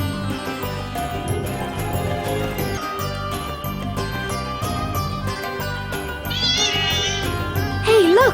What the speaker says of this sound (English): That's got to be the cat the shopkeeper was talking about, no?